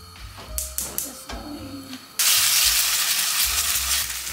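Avocado oil sprayed into a frying pan starts with a few soft taps and clicks, then bursts into a loud, steady hiss of sizzling that carries on close-up to the end.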